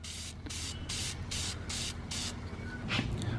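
Aerosol spray paint hissing onto a motorcycle rear shock spring in repeated short bursts, about six even blasts in a steady rhythm followed by a couple of shorter puffs, close and loud over faint background noise.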